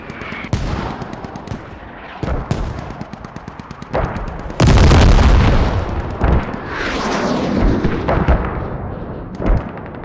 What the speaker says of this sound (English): We have an airstrike coming in now on Hemp Farm from OB.